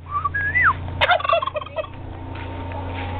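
A farm turkey lets out a loud, rattling gobble after a short whistle-like call, then trails off into quiet background hum.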